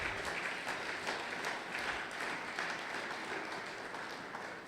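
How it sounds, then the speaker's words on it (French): A church congregation claps during a Sunday worship service, a steady, sustained roar of many hands applauding together at moderate loudness, with no clear voice over it. "Acclamons encore pour la gloire de Jésus."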